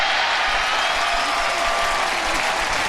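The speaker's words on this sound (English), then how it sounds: "And this crowd is appreciative." A college football stadium crowd at a Syracuse at Rutgers game in 2006 applauds a play, a dense, sustained wash of clapping and crowd noise from many people, heard from a distance with no voice on top.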